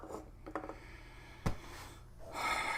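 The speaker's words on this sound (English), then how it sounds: "that's a dog snoring, Laura." A dog snores close by with soft, uneven snuffling breaths and one sharp snort midway.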